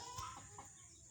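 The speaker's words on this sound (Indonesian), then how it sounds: "ayam nih" A mother hen clucks faintly once or twice in a village yard, quiet and distant over low outdoor background noise.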